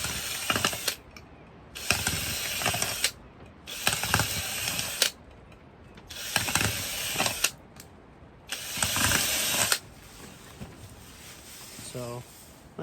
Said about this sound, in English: Drilling some holes in these cups that I start plants in.